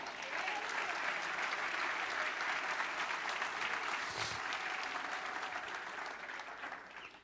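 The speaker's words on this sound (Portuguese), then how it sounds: "Aleluia, aplauda o Senhor." Sustained applause from a church congregation fills the space, steady and dense throughout with a faint voice briefly rising in the middle.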